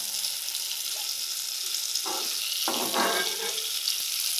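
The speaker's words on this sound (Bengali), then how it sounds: "তো যাই হোক, লঙ্কাটা ভাজা হয়ে গেল।" Green chillies frying in hot oil for an egg curry give a steady, close hiss, with a few short scraping bursts as they are moved around the pan.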